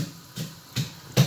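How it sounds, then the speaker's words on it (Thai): Three dull, evenly spaced thuds of garlic pounded in a mortar with a pestle, close and fairly quiet, with a short pause between each strike. "ที่ได้ยินนี่คือเสียงตำกระเทียมนะครับ"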